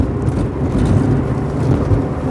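Rover 25 with an L-series diesel engine and a Chaz Lee ECU pulls hard under acceleration, a loud, close, rumbling drone with road and cabin noise, steady throughout the short stretch with no talking.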